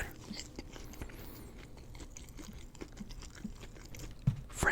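A Wendy's French toast stick is bitten and chewed up close, with soft spongy mouth sounds, scattered small crunches and a sharper bite near the end, with no talking.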